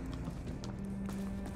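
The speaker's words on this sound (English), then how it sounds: "this footstep noise on the wood is definitely new" Footsteps on a wooden floor in a role-play video game, a quick run of soft, even taps over a low, continuous background hum.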